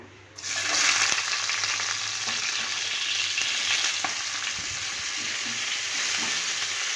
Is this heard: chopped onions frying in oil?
yes